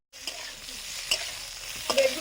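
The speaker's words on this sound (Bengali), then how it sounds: "বেগুন ভাজা হচ্ছে" Brinjal (eggplant) slices frying in hot oil, a close, steady sizzle with a few stirring scrapes and clinks, no talking.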